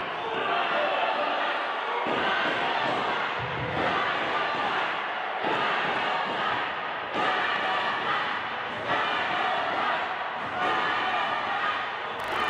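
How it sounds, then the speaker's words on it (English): A wrestling crowd chants Kid Dynamite's name in loud, rhythmic surges about every two seconds, a dense roar that fills the whole stretch with voices mixed in. "Kid Dynamite, the crowd yelling his name."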